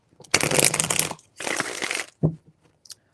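A deck of cards is shuffled in two long, dense riffling bursts, followed by a brief tap as the deck settles, all close and crisp with no talking.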